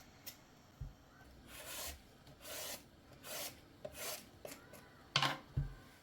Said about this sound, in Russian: И очищаем полностью от кожуры